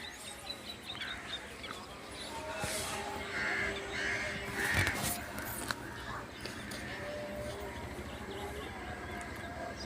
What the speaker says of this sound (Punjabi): ਪੰਛੀਆਂ ਦੀਆਂ ਆਵਾਜ਼ਾਂ ਆ ਰਹੀਆਂ